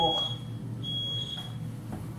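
A smoke alarm in a home kitchen, set off by an overheated stove while cooking, gives two short high-pitched beeps, fairly faint and spaced about a second apart, over a low background hum.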